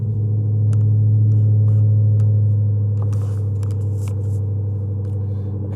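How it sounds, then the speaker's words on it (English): A car engine runs at a steady, loud idle with a deep, even rumble throughout, with only faint clicks above it and no talk. "I'm going to go ahead and fire this car up"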